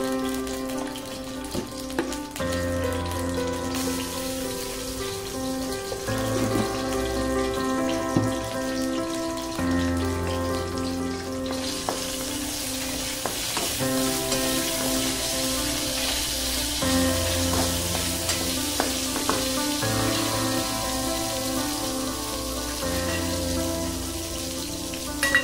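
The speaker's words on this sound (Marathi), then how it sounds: "त्यामध्ये ही वांगी आहे ती थोडी धुवून घेतलेली वांगी परतून घेऊया." Washed eggplants with a little salt sauté in hot oil in a kadhai, giving a continuous soft sizzle and crackle, with steady background music and no talking.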